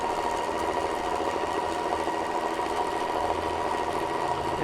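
An electric mixer with two whisks hums and whirs steadily as it whips cream, its motor drone continuous and close throughout with no voices.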